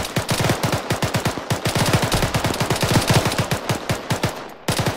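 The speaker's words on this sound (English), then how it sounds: "We're taking too much suppressive fire." Sustained automatic gunfire from a military video game squad practice, rapid bursts of shots firing continuously and loudly with brief gaps, no talk over it.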